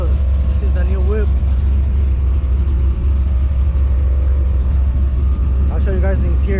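A newly bought truck idles close by with a steady low rumble, while people talk over it throughout.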